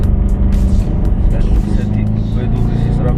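An Audi S4 on a test drive gives a loud, close, continuous engine roar with low rumble under someone talking throughout.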